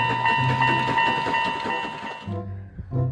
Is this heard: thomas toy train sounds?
yes